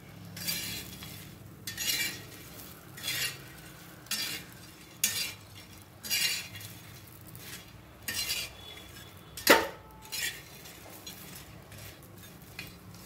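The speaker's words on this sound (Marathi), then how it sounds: "2-3 मिनिटानंतर आता हे परत हलवायचं आहे." Leftover jowar bhakri pieces roasting in a pan on a low flame, stirred in a series of regular scraping strokes about once a second, with one sharper clink near the end over a faint background sizzle.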